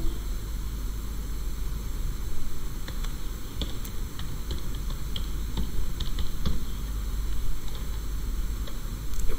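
Sparse, soft keystrokes on a computer keyboard tick intermittently over a steady low hum and background hiss, with no talking.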